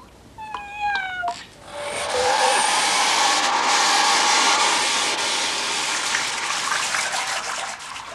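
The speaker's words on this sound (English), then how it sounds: "And when Billy left the bathroom taps running" Bathroom taps left running give a steady broadband rush of water for several seconds, close and fairly loud, preceded by a short pair of cat meows.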